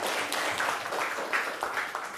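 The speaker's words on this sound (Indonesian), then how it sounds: "tepuk tangan dulu untuk kita semuanya sekali lagi." A class of schoolchildren applauding in a classroom after a group activity, a steady dense patter of many hands clapping at moderate distance with no talking over it.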